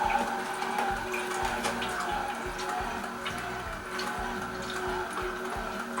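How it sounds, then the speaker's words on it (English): A Hurom Elite slow juicer crushing soft grapes: a low, steady motor hum with irregular wet clicks and squelching ticks on top, close and continuous. "One of the slowest juicers currently on the market."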